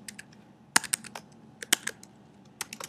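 Fingers type on a computer keyboard nearby, producing quick, irregular clicks in short bursts with brief pauses between them.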